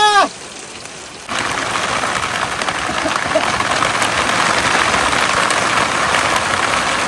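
Rain pouring steadily on a Sundarbans river, a dense close hiss that swells in after a brief quieter opening with a short tonal chirp.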